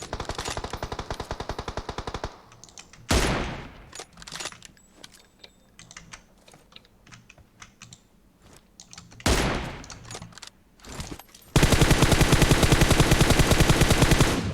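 Automatic gunfire in the mobile shooter PUBG Mobile, a rapid loud burst at the start, scattered shots and clatter in the middle, then another sustained close rattle of fire at the end.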